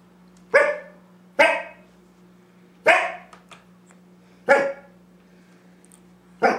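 A dog barks indoors, five sharp, loud barks spaced about a second apart, each one short and alone over a faint steady hum.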